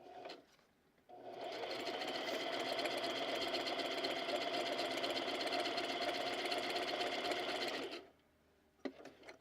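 A sewing machine stitches in one steady, fast mechanical whir for about seven seconds, starting and stopping sharply, followed by a few faint clicks of the hand wheel.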